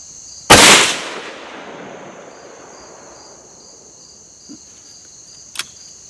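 A single loud, sharp report from a Ruger Precision Rifle in .308, fired outdoors, rings out and decays slowly, followed by a few faint distant pops and a steady insect-like whine in the background.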